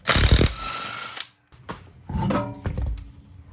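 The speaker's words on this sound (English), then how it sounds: "we're going to remove this wheel. I've got a 22 millimeter socket for these lugs." An impact tool with a 22 mm socket removes the front wheel lug nuts on a Ford Expedition, sounding as a loud close rattling burst, a brief pause, then another shorter burst.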